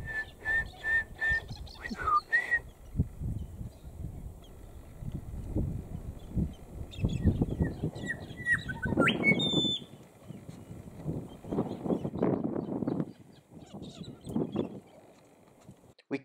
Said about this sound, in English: I get distracted talking to this grey shrike